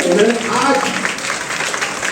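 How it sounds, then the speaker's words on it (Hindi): Applause from a school audience during a motivational lecture, a loud steady wash of many hands clapping close by, continuing throughout. "जोरदार तालियां बजाइए फिर से।"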